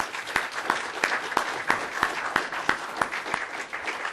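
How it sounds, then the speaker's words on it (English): An audience at a book discussion event gives a round of applause, many hands clapping in a steady, brisk rhythm with regular sharp peaks, moderately loud and continuous throughout. "Join me, if you will, in a round of applause for David."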